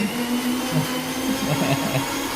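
A mixer grinder runs continuously with a loud, steady motor whine and a rough churning rumble, close by, with no talk over it.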